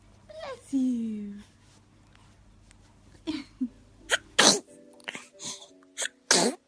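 Close, sharp sneezes from a baby come in a quick cluster near the end, after a cooing vocal sound and a few small hiccup-like noises, while a soft voice murmurs in the background.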